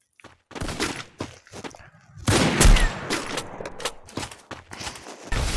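Rapid bursts of gunfire in the Free Fire mobile battle game, loud overlapping volleys and single shots that pause briefly then resume in dense clusters.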